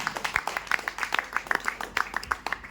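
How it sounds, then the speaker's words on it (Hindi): Clapping from a small audience at a Hindi-language gathering honouring Mr Amit Kumar, a string of separate sharp claps in an uneven rhythm, fairly close and moderately loud, with no talk over it. "मैं चाहूंगा जोरदार ताली चाहिए मिस्टर अमित कुमार सर"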